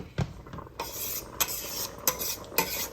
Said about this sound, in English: So give this a stir.